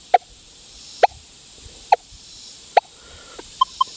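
A Manticore metal detector signals over a buried US half dime with four crisp, evenly spaced mid-pitched beeps about a second apart, followed by two shorter, higher blips, loud through the maxed speaker over a faint hiss.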